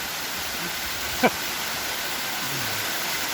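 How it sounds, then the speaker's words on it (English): A waterfall in the gardens near Doi Inthanon, Thailand, gives a steady broadband rush throughout, with a brief faint whoosh from something passing close. "So this must be the 5th waterfall of the day."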